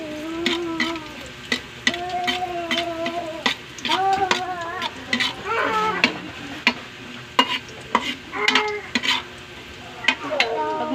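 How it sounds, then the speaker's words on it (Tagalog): Sliced ginger frying in a pan for Filipino binagoongang talong, a steady close sizzle broken by repeated scraping strokes of a spatula stirring against the pan. "Pag makita natin mag golden brown na yung ating luya, isunod natin yung bawang."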